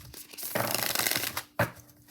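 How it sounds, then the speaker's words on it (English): Oracle cards from the Oracle of Oddities deck are shuffled in a steady riffling burst of papery flutter that runs for about a second, followed by a brief sharp slap of the cards being squared. "Let's see how it shuffles. A beautiful shuffle here for ourselves."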